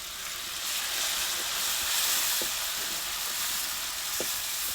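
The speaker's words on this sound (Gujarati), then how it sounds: "હવે આપણે આ ગાંઠિયાનો ભૂકો નાખી દઈએ અને આ ટમેટું નાખી દઈએ" Crushed gathiya and chopped tomato sizzle in a hot frying pan for gunda shaak, a loud, continuous close hiss with a few soft stirring knocks.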